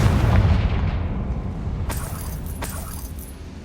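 A Confringo fire spell blast in Hogwarts Legacy lands as a loud low boom at the start, its rumble fading away over the following seconds with a couple of faint sharper crackles, no voices.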